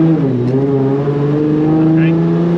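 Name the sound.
2JZ-swapped BMW E30 engine accelerating in first gear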